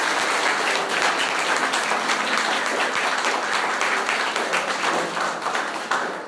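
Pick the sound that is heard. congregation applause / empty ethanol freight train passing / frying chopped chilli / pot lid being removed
congregation applause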